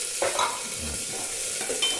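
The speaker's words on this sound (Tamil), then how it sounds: "நல்லா கொஞ்சம் வதங்கட்டும்" Onions and curry leaves sauté in a hot pan, giving a steady close sizzle with a few scrapes of a stirring spoon across the whole stretch.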